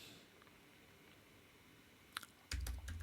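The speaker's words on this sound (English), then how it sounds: "sorry, my typing again" Computer keyboard typing, with a few faint key clicks followed by a louder, denser burst of keystrokes near the end, close and alone with no talk.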